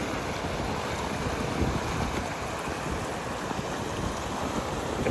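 Steady, unbroken rush of a waterfall and flowing water at Hat Na Yao, Xaignabouli, filling the scene at an even loudness with no voices.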